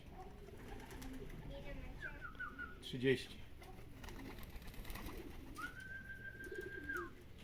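Young racing pigeons at a loft make soft cooing and brief calls among a few whistled and chirping bird notes, fairly quiet, while someone talks in Polish over them.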